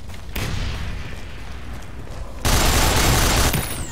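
A grenade blast and bursts of gunfire in the Nuclear Dawn video game. Dense rattling fire runs throughout, then a louder, heavier crash of explosive noise surges for about a second before easing back.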